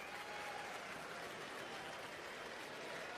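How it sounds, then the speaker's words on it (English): Coastal Carolina baseball fans stand and clap at a College World Series game, a dense, steady wash of applause from a distant stadium crowd with no break. "Coastal Carolina fans standing and clapping."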